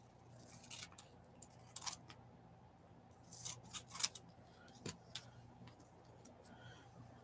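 Paper being trimmed for a Christmas gluebook, faint scissor snips and small clicks in scattered short bursts against a quiet background hum, with no voices.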